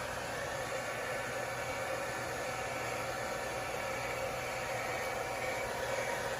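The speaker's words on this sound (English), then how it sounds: "Keep that blow dry rocking back and forth." A handheld blow dryer runs steadily and loud for the whole stretch, a constant whooshing airflow while it dries hair with a brush during a Texas cosmetology state board blowout and thermal curl practice.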